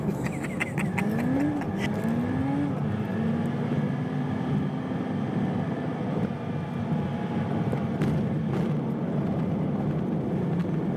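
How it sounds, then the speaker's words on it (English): Van engine revving and whining up in pitch a couple of times, then a steady droning motor with road noise on a country lane, heard from inside the vehicle. "My van turns into a race car sometimes."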